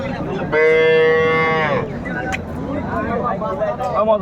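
Cattle at a rural livestock market in Dinajpur, where one cow lets out a single loud, drawn-out moo lasting about a second, close by, amid crowd noise and people talking.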